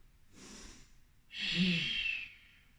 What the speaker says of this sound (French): Inspirez, expirez, avant-bras droit, avant-bras gauche et je tiens. 3 respirations.